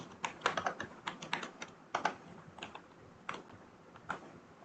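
Someone writes code on a computer keyboard, and the keys clatter close by in irregular bursts of quick taps with short pauses between.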